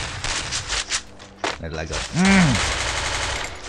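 Rapid bursts of automatic gunfire in the mobile battle game Garena Free Fire, a few quick volleys and single shots, with someone briefly talking over the game sounds.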